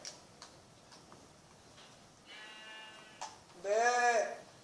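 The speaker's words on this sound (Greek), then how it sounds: "Πρόβατο." A sheep in the Minecraft video game bleats once, a short, loud, wavering call near the end, after several seconds of faint clicks and quiet game background.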